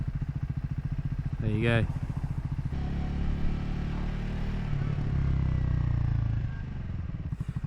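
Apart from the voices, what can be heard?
Triumph Scrambler 400 motorcycle engine running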